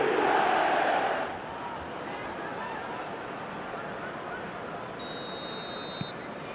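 A stadium crowd in the eFootball video game roars loudly at first, then settles into a steady wash of background crowd noise with a few faint electronic beeps.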